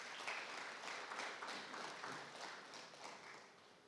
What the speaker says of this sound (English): I want us to please give a round of applause to that